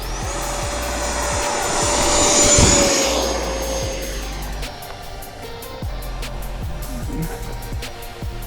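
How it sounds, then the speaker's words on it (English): An airplane takes off, its engine roar swelling to a peak and then receding into the distance, with a high whine sliding downward as it passes. "Beautiful takeoff."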